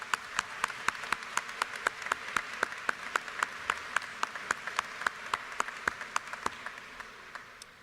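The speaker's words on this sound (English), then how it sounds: "Let's give a round of applause to these graduates one more time." Applause for graduating seniors at a high school graduation ceremony, with one nearby clapper beating a steady, even rhythm over a softer crowd, fading toward the end.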